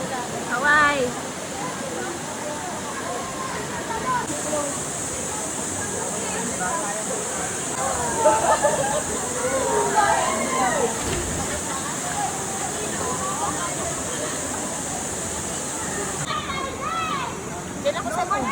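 Canding Falls roars with a steady, dense rush of falling water, close and loud, while several people chatter and call out over it.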